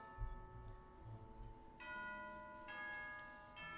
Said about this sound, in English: Is that the bell? Yes, that's the signal for tea time.